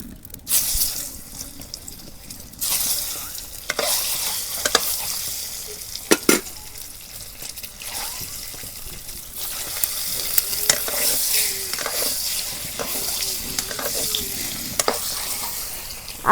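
Potatoes frying in a pan, a steady hissing sizzle broken by scraping stir strokes and a few sharp clacks, with running water heard at times, no talk.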